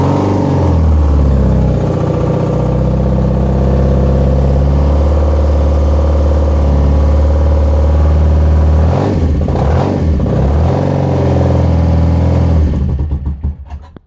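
A BMW R65 motorcycle, fitted without its fuel tank, runs loud and throaty inside a garage. The engine drones close by and steadily for most of the time, dips briefly midway, then cuts off at the end.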